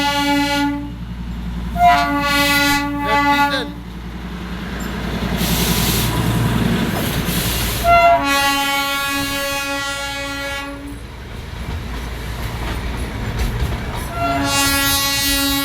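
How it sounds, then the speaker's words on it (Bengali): The Darjeeling toy train, a diesel-hauled narrow-gauge train, passes close by, sounding repeated loud horn blasts over the rumble and clatter of its wagons. "টয় ট্রেন প্রথমবার পেলাম"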